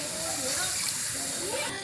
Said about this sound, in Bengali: বেশ কিছুটা গরম জল দিয়েছি।